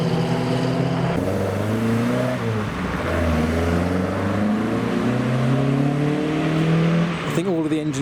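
Cars rev and pull away one after another as they leave a classic car meet, their engines rising and falling in pitch close by, with people talking over the rumble.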